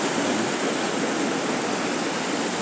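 Floodwater pouring over an old weir beside a bridge, a loud, dense, unbroken roar of rushing water close by with no talking.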